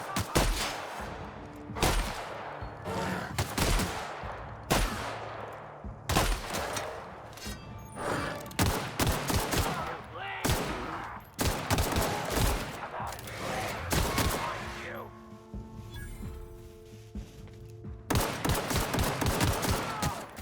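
In the video game The Outer Worlds, a shotgun fires in repeated heavy blasts at irregular intervals during a fight at a marauder camp, loud and close, with other gunfire and combat noise in between.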